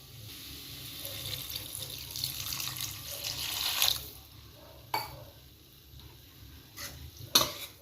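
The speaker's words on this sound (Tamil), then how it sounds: "கொஞ்சமாக தண்ணி ஊற்றிக்கலாம்." Water is poured and splashed into a simmering fish curry masala in a pan, a gurgling pour with light sizzling, followed by a few sharp stirring clinks, close and moderately loud with no talking.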